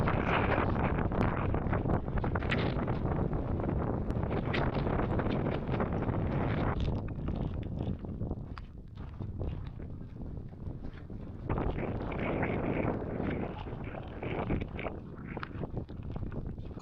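Gale-force wind buffeting a mountain bothy in gnarly weather, a loud continuous roar with gusty surges and heavy microphone buffeting, no talk.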